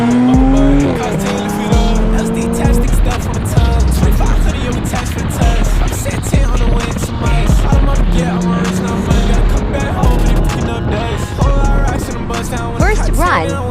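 A turbocharged Mustang race car makes a run, its engine roaring loud and close with rising revs as tires squeal and skid throughout.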